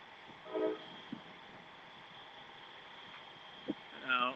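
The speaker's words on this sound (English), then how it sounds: "Train's right there." A southbound train halted at a railroad crossing sounds its horn in two separate blasts, at the start and end, against a steady background hum, with brief speech between.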